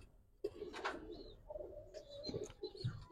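Giribaz and coloured pigeons at a pigeon sale give soft, close coos in short bursts alongside a few faint chirps, with no one talking.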